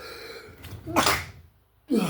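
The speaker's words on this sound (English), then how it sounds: "That sneeze snuck up on me." A single sharp human sneeze bursts out after a short inhaled gasp, close and loud, followed by a brief pause and the start of another vocal sound.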